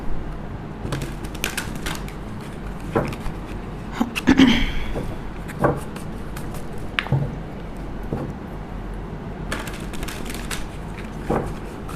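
A very heavy deck of large tarot cards is shuffled in the hands, giving scattered soft shuffles, taps and slides at irregular intervals with quiet gaps, close and fairly clear.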